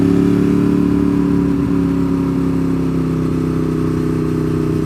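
A Ducati 848 motorcycle engine runs steadily with a loud, continuous mid-pitched rumble and a constant idle-like drone for the full few seconds. No one speaks.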